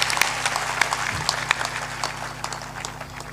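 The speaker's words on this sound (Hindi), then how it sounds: "ताली बजाकर उनका अभिनंदन करें।" An audience claps to welcome a guest at a gathering, with scattered, sharp hand claps at an uneven pace over a steady background hum, moderately loud.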